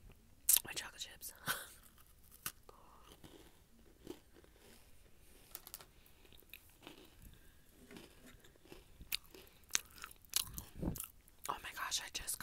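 Close crunching bites and chewing of chocolate chips with a dry snack, irregular soft crunches scattered across a quiet whispered ramble.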